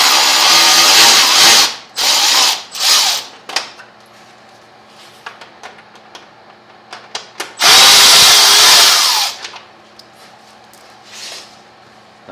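A cordless drill backs Phillips head screws out of a Lifan KPR 200 side panel in several short whirring bursts of rising pitch, separated by quiet gaps with light taps and handling clicks, then one long final run.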